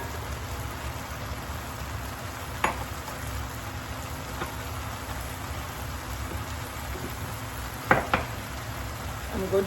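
Thyme, green onion and pepper sizzle gently in a pot for Caribbean rice and peas, a soft, continuous crackle with a couple of brief sharper clicks, fairly faint and steady.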